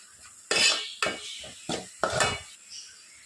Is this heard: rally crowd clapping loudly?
no